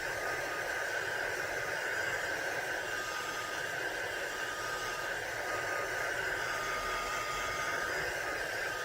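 An electric heat tool blows hot air onto a painted art journal page, producing a loud, steady, unbroken whooshing hum up close that continues throughout with no talk.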